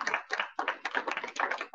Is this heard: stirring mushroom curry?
no